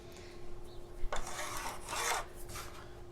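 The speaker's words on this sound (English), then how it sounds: "let's just draw a couple lines on there so we know where we're at" Pencil or marker rasping across a wooden board in a few short scratchy strokes, close by and moderately loud over faint background hum.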